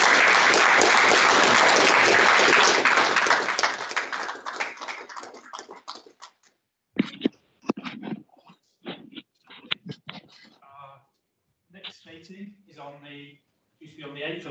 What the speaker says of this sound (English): Would you please join me in a round of applause to thank Zoe and Rob for their time